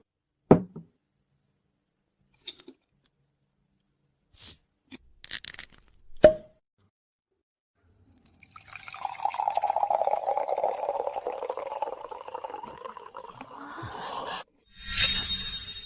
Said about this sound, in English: then I need you to open this bottle right here, right now.